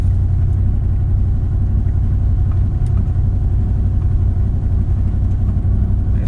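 A Nissan Titan engine with clogged catalytic converters runs rough and low at close range, a heavy uneven rumble that sputters without clear revving, with no speech over it.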